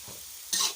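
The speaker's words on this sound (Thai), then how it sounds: "แล้วก็ผัดคลุกเคล้า" Chinese kale is stir-fried with seasoning sauce and sugar, giving a quick, close burst of sizzling and stirring noise against a soft background hiss, with no voices.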